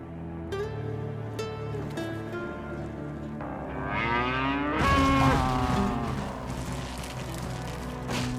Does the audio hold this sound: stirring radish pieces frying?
no